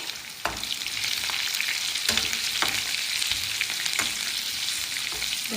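Green chilies frying in a hot tadka for Punjabi kadhi pakora, a steady close sizzle with crackling pops and occasional stirring clicks throughout, no talking.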